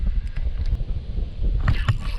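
Wind gusts across a fishing spot at dusk, a low, steady rumble of microphone buffeting with faint knocks and scrapes from gear on a boat.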